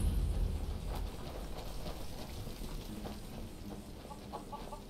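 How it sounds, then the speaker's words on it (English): Faint chicken clucks and a rooster call in modded Skyrim gameplay, scattered soft bird sounds in the distance over a steady bed of ambient game noise. "Did I hear a chicken cluck?"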